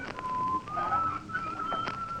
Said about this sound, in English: It's the piece Monty was going to whistle just before he got into the small boat to row out to the ship.